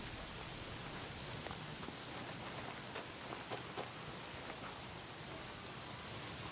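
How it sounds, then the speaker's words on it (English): Steady, dense rain pouring down in the video game Days Gone, a continuous hiss of heavy downpour with scattered drop patter and no voices. "Well, not if it's pissing down rain."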